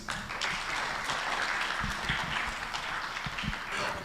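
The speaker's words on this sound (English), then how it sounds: "let's clap for him again" Steady applause from an audience at a general assembly fills the whole stretch, dense and even with a few louder claps standing out near the end.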